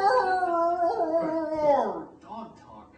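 At a live improv comedy show, a person's voice imitates a dog howling: a drawn-out, wavering howl that slides downward in pitch and trails off into a soft whimper, close to the microphone.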